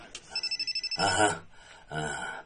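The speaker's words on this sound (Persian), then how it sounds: "تلفن زنگ میزند." A telephone ringing, a rapid burst of about eight short electronic trills followed by two longer ring tones, fairly quiet and heard alone.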